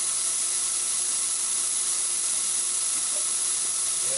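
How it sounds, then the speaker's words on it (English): Compressed air hissing steadily while blowing chips off a milling machine in a machine shop, a loud continuous broadband rush with no pauses. "We're going to put the air on so we can blow the chips away."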